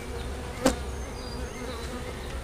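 Honey bees buzz around a hive's honey super, a faint steady drone with one loud bee passing close by near the start.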